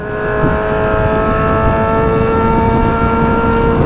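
A Honda Hornet motorcycle with a straight-pipe 4-into-1 exhaust revving hard, a loud, sustained, buzzing engine roar with steady high-pitched harmonics, close up and alone.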